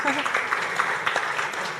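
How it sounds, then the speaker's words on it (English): Audience at a sustainable finance summit giving a short round of applause, a brief burst of steady clapping in a hall with voices mixed in. "A round of applause for them, please."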